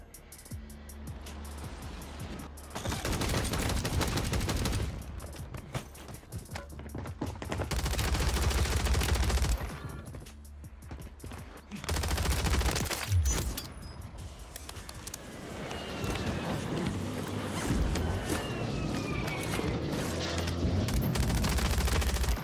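Loud bursts of gunfire from a slow-firing gun in the video game Warzone ring out in repeated volleys with short pauses between them, and no one speaks.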